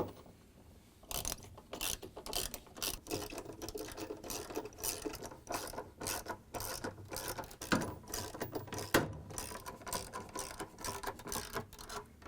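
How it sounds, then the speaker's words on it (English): A 10mm wrench ratcheting stator bolts tight on an LG/Kenmore washer: quick, dense clicking in repeated bursts with brief pauses, close and fairly quiet, a few sharper metallic knocks among them. "we can come around with our 10mm wrench and tighten them all down"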